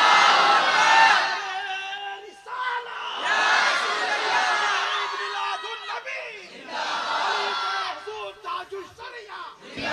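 Large gathering at a religious assembly roaring back in answer to a Takbir call, three long swelling waves of massed shouting with chanting voices, loud and close, followed by scattered calls.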